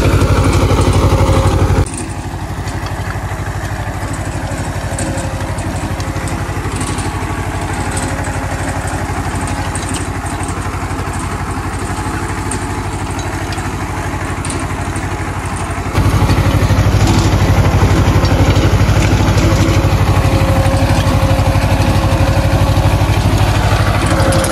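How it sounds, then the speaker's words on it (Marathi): A tractor pulls a groundnut seed drill across a field, its engine giving a steady, close, continuous drone that grows a little louder partway through, with no talk. "आणि इकडं ट्रॅक्टर चालू आहे."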